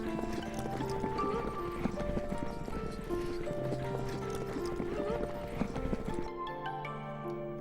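Horses clip-clop steadily under a music bed, probably in a Kazakh nomadic setting where horses and camels carry homes. The hoof beats stay even throughout, and the music thins near the end.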